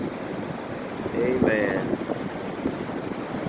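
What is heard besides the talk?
ocean waves on Daytona Beach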